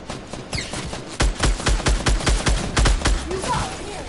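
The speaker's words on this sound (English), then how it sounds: "Mate, who's shooting on me?" Gunfire in the battle royale game Fortnite, a rapid burst of about a dozen loud close shots in quick rhythm after a quieter opening, with faint game sounds around.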